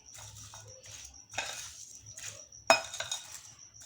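Fruit chaat is stirred with a spoon in a bowl, giving soft wet shuffling strokes broken by one bright clink of metal on the bowl, close and fairly quiet.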